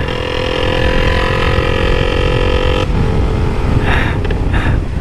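A Sniper 200cc motorcycle with a Tobaki racing engine and an open pipe Jhoe part exhaust revs hard close by, a loud steady raspy drone that drops off and then gives a few quick sharp throttle blips.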